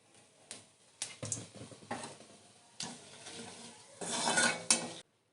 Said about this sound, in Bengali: কড়াই তেল দিয়ে দিয়েছি, ফোড়নে দেব তেজপাতা, গোটা জিরে